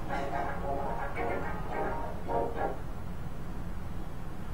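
A short run of yapping dog barks from the video game Undertale, several quick electronic-sounding yips over a steady low hum, moderately loud.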